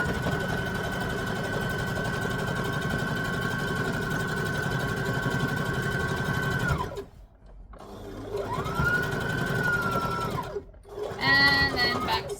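A sewing machine runs steadily while stitching a lap quilt, its drone continuous for about seven seconds. After a short pause it starts again for a briefer run, and a voice speaks near the end.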